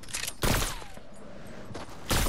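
Sniper rifle shots in a video game, two sharp loud reports about a second and a half apart with quieter game noise between them.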